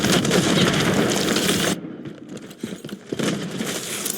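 Stun grenade blast in a video game: a dense, loud burst of explosive noise, then a sudden drop to quieter rattling gunfire and scattered pops.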